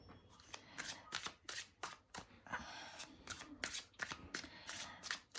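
Tarot cards being shuffled by hand in a quiet room, a repeated series of crisp riffling bursts with short pauses between them.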